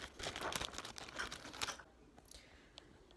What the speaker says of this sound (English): I just put it in a plastic bag